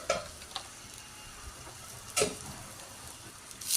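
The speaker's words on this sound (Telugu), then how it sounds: "ఇలాగ బాగా ఫ్రై అయ్యాక ఇంగు వేస్తాము" A tempering for coconut curd chutney fries in a pan with faint, steady sizzling and a few soft clicks and stirring knocks, quiet and close with no talking.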